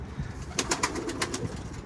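Racing pigeons return during stormy weather and enter their coop, giving soft cooing and a few brief chirps over steady wind-like background noise, close by and without talk.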